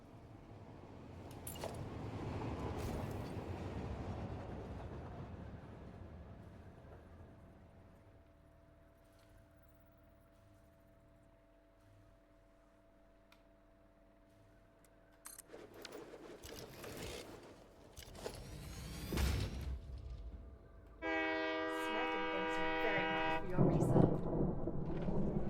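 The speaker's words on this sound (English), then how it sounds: "Oh, here comes a train." A train in the factory-building video game Satisfactory rumbles past, its low noise swelling and fading, with steady mechanical hums, scraping bursts and a loud harmonic tone near the end.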